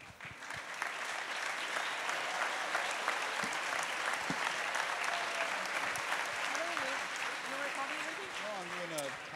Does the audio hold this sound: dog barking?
no